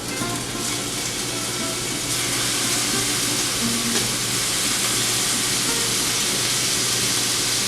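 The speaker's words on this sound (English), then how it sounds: "you hear that nice sizzle." Beef sizzles steadily in a hot pan, a constant crackling hiss that grows slightly louder partway through, close and fairly loud.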